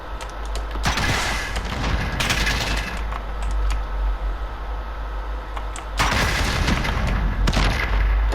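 Call of Duty gameplay with sustained game gunfire rattling throughout and two heavy booming bomb explosions, one early and one near the end, loud and close with no talking.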